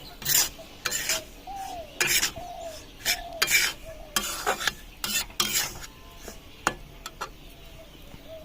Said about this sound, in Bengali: সুজিটা ভালো করে নেড়ে ছেড়ে নেব